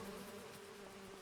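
Bees buzz around beehives on a farm in the video game Farming Simulator 25, a faint, steady insect drone heard alone for a brief moment.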